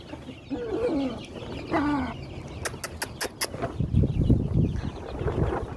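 Hens clucking and squawking in short bursts in a coop shared with chicks they are pecking, with a few sharp high calls in the middle and low shuffling noises toward the end.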